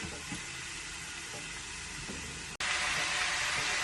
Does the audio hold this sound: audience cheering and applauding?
no